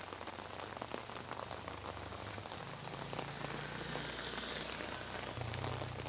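Steady typhoon rain falls on a hard surface, a dense continuous patter with scattered heavier drops, no voices, growing slightly louder toward the end.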